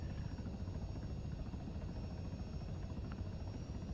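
A helicopter flies in for a pinnacle landing, its rotor and engine giving a steady, dense low roar that stays even throughout, close and unbroken.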